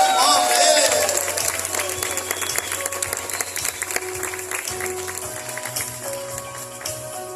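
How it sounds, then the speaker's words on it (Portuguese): Audience applause fills a church gathering as a guest is welcomed to the stage, a dense wash of clapping that is loud at first and gradually thins, with crowd murmur beneath. "uma salva de palmas para ele"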